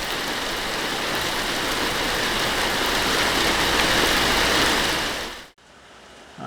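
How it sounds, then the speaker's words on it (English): Heavy rain pours steadily outside a tool shed on an off-grid homestead, a loud, dense hiss that stays even for several seconds and then cuts off abruptly. "That rain is really coming down now."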